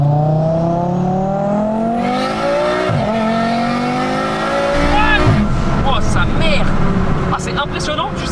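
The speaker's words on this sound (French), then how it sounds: "quand tu montes en régime, tu sens que le turbo il relâche encore plus, il lâche encore plus de pression." A 1000 hp turbocharged Volkswagen Golf 7R engine accelerates hard through the revs, loud and close from inside the car, with steady rising pitch, a gear change or two and turbo whoosh, while people talk over it.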